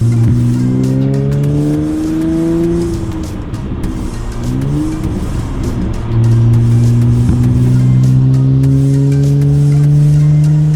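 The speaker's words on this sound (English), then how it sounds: "so I guess now we're gonna go for a test drive" Acura TL on a test drive after a spark plug repair, its engine droning steadily and loud throughout, pitch rising and falling with throttle changes and gear shifts, tires rolling under the cabin.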